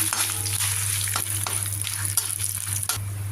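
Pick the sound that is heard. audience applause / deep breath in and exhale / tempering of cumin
tempering of cumin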